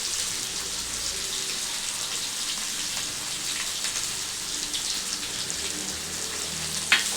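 Green chillies and curry leaves frying in hot oil with onions: steady, close crackling sizzle throughout, with a small pop near the end.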